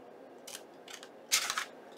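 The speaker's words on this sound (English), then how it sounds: "I'm going to cut it down straight." Scissors cut through a piece of junk-journal paper in a few short, crisp snips, with the longest cut near the end. The snips are close and fairly quiet, with no talk.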